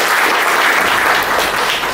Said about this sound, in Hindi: एक बार और जोरदार ताली करते हैं।